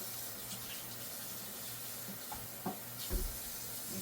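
A tap runs warm soapy water into a sink during cleaning of a bicycle suspension fork, giving a steady, close hiss with a few sharper splashes and clunks near the end.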